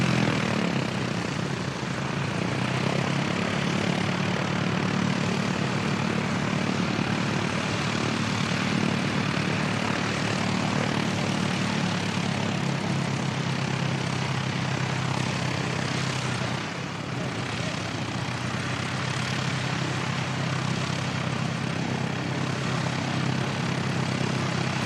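Air New Zealand flight NZ537 from Auckland roars in on final approach to Christchurch Airport, New Zealand, a broad, continuous engine drone that holds loud and steady throughout.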